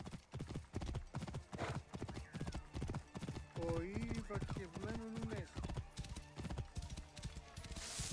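Steady rhythmic clip-clop of horse hooves in Assassin's Creed Origins, with a horse whinnying midway and a voice speaking over the trotting.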